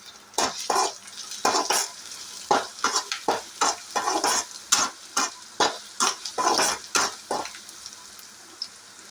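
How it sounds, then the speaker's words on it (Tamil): Onion and crushed garlic sauté in a pan while a spoon stirs them in brisk, uneven scrapes over a low sizzle, close and fairly loud with no talking. "இப்போ வெங்காயம் நல்லா வதங்கிடுச்சு, பூண்டை ஆட் பண்ணி நல்லா வதக்கிக்கலாம்"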